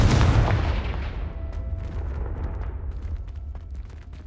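A Confringo spell blast in the Hogwarts Legacy video game, a single loud booming explosion that hits at once and then rumbles away over a few seconds.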